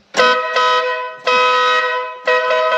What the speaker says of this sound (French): Les deux klaxons sont posés et branchés. Maintenant, ça va être le test.